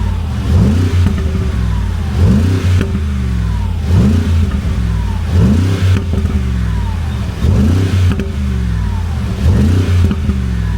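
Mercedes G63 AMG engine in Sports Plus mode, revved repeatedly while parked: a series of loud, aggressive blips rising and falling about every second, with a rumbling idle between, close by and without talk.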